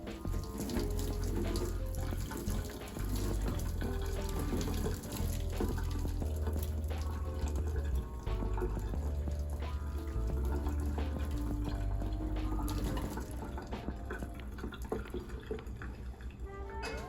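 Running tap water pours steadily into a sink to boil-wash secondhand Monster High dolls, a continuous close splashing stream with some dripping, with faint music underneath and no speech.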